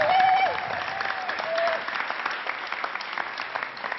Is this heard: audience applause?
yes